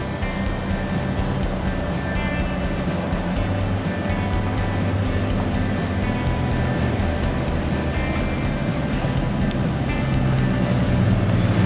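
A vintage truck, a 1951 Studebaker or 1955 Chevy Napco 4x4, with its engine running in a loud, steady, rumbling drone that continues throughout the clip.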